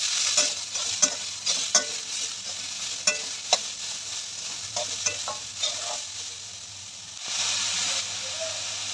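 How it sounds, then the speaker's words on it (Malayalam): Cauliflower pieces frying and being stirred in a pan, a steady sizzle broken by repeated scraping and clinking strokes of a spoon, close and fairly quiet, with no talk. "ഒരു 5 മിനിറ്റോളം കോളിഫ്ലവറിനെ ഇങ്ങനെ ഇട്ടൊന്ന് ഇളക്കി"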